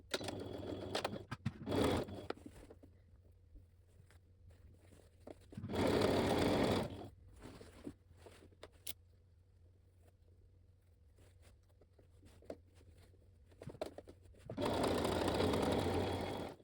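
Domestic sewing machine stitching the hem of a fur vest made from square fabric, three loud bursts of steady stitching around the 2, 6 and 15 second marks, separated by quieter handling noises.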